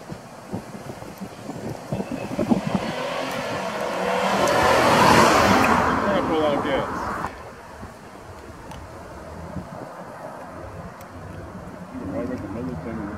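A car passes on a Charleston street, its road noise swelling as it draws near and then fading away, with people talking over it throughout.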